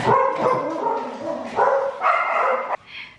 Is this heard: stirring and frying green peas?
no